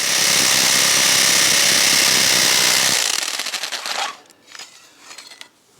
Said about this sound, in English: So first of all, I need to drill a hole.